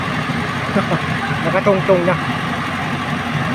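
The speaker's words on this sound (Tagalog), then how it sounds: "ang kanilang sasakyan pambutos ng lupa o ang kanilang makina" A deep well drilling machine truck's engine idling in a steady low rumble, with people talking over it throughout.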